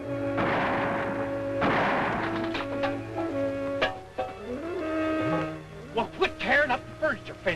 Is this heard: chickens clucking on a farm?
no